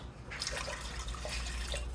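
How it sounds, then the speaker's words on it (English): Cold water is poured from close by into a pan of flour gravy for cubed steak, a faint, steady trickle with small splashy drips lasting about two seconds, no talking. "And then add a little more of that cold water."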